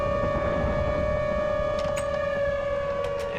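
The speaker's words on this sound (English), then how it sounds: "There's the tornado sirens." Tornado sirens in a modded Minecraft game, a steady sustained wail holding one pitch throughout, with faint sharp clicks near the end.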